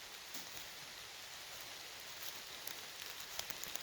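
Steady soft rain patters through forest foliage near fern gullies, a continuous hiss with a few louder drips standing out near the end.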